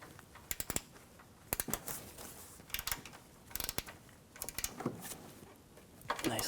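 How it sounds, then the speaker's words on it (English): Bolts on a radiator fan motor of a 2010-2014 Volkswagen GTI 2.0L being tightened with a ratchet, quiet rapid clicking bursts repeating every second or so, close and isolated. "Tighten the lower bolts."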